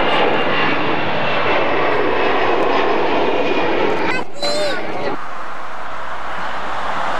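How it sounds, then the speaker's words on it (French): Airplane jet engines during departure at an airport, heard from inside the terminal as a loud, continuous roar that builds and then drops away, with a brief higher whine near the end. "Départ de l'avion"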